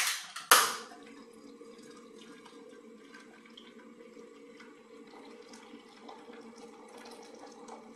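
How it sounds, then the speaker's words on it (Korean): Water poured from a kettle into a pot for instant Sichuan white jjamppong noodles, a brief sharp splash at the start followed by a steady, moderately quiet stream of pouring and trickling with no talk. "자, 일단, 물부터 붓고,"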